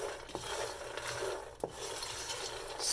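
Fox nuts (makhana) tossed with chaat masala and black pepper being stirred in a pan: dry scraping and rustling with a few sharp clicks of the spoon, close and fairly quiet.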